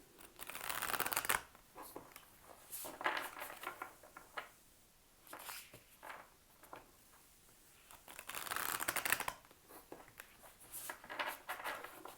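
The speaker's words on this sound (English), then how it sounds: "pull a card from the Moon Oracle deck just to get the overall theme for the reading" A Moon Oracle card deck is shuffled by hand up close, with quiet bursts of riffling and sliding cards that come in uneven waves, with short pauses between them and no talking.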